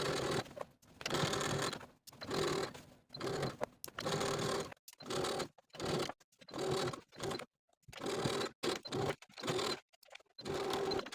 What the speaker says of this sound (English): stitching in the ditch of that waistline seam all the way around